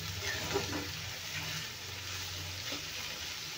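Onions frying in oil until golden, a soft continuous sizzle with steady hiss, fairly quiet and unbroken, no talking.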